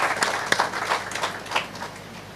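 Scattered audience applause at the official opening of a justice centre, a modest crowd clapping unevenly at moderate distance for a couple of seconds.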